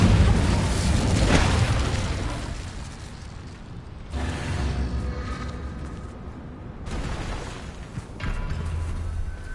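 Incendio fire spells cast in Hogwarts Legacy: three loud whooshing, booming fire bursts come at spaced intervals, each rolling into a crackling fade.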